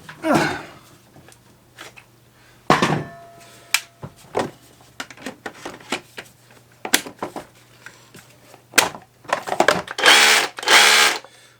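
A Bosch GBH 18V 26 D cordless hammer drill runs in several short bursts, revving up and stopping, with a longer, louder run near the end; close and loud.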